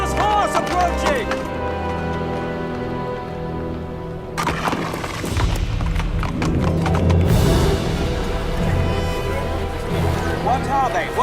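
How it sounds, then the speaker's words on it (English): A riderless horse approaching, its hooves clip-clopping steadily with a whinny, loud and close among dense layered ambience, while people's voices call out over it. "Riderless horse! Riderless horse approaching!"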